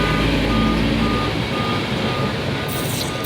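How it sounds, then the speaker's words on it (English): A loud truck rumbles past close by, its engine drone and road noise dominating while a regular reversing beep repeats in steady pulses, the roar easing slightly toward the end. "Let this truck pass, cause this shit gonna be loud."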